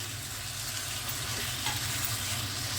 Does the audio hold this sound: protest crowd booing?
no